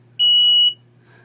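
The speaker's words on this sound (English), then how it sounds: "You already heard a buzzer go off." A single electronic game-show buzzer tone sounds for about half a second, bright and steady, over a low background hum.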